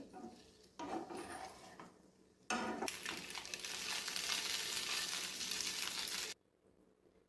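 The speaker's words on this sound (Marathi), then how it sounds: "ह्या पोह्याच्या बॉल्सला हा तडका जो आहे तो छान असा कोटिंग झाला पाहिजे आणि दोन ते तीन मिनिट आपण हे छान असं फिरून घ्यायचं आहे" Poha balls being stirred in a pan of tempering, a quiet frying hiss with soft scraping strokes that swells into a fuller, louder sizzle for several seconds before cutting off abruptly.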